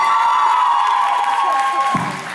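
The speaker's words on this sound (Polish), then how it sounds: "Wielkie brawa dla niego" A live concert crowd at a Christmas show in Miechów applauds and cheers a performer, with whoops and shouts over loud, steady clapping that tapers slightly toward the end.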